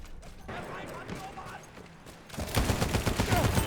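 A light machine gun in Battlefield 1 firing, with scattered shots giving way to loud, dense, rapid automatic bursts mixed with mechanical clatter.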